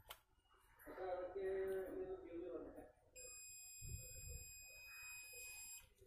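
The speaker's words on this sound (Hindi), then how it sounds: "बीप साउंड आ रहा है" Continuity tester beeping across the fuse of a Lenovo laptop charger during repair, a steady electronic tone starting partway through and holding for a few seconds, with someone talking under and around it.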